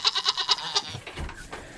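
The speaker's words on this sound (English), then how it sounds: "Now these goats are hungry, Tyler, so they're going to be pushy." Several hungry goats on a farm bleat in a quick run of repeated cries, fairly close and loud, followed by quieter shuffling and low farmyard noise.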